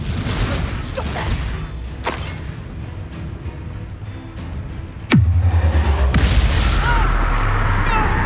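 Blasting spell explosion in Hogwarts Legacy, a sudden loud booming blast midway that leaves a heavy low rumble, with game battle noise and scattered pops before it.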